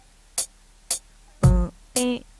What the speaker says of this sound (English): you can have a sound metronome that would sound like this